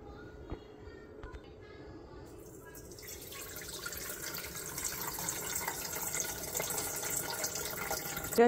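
Water pours steadily into a bowl of chana dal set to soak for rava masala idli, a continuous splashing rush that builds and grows louder over time, with no talk.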